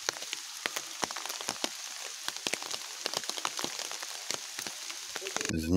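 Steady rain patters close by in a forest, dense irregular drops tapping leaves and surfaces, with a brief different noise right at the end.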